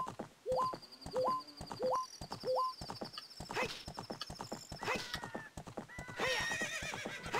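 Clip-clop hoofbeats of a galloping horse in the video game The Legend of Zelda: Ocarina of Time, a steady rhythmic run punctuated by loud whinnies and neighs, with game music and effects layered over it.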